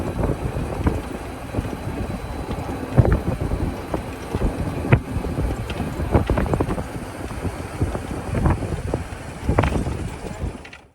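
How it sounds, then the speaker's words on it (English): Open-air ride in a golf cart outdoors, with steady wind buffeting the microphone and a low rumble of motion, broken by irregular thumps and rattles from bumps along the way; no talking. "I have a short clip of me driving in my golf cart"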